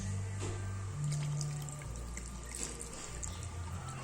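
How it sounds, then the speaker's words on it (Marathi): Water poured into a simmering fish gravy in a pan, a steady, moderately loud liquid splash over a low kitchen hum. "अजून थोडं पाणी घालू"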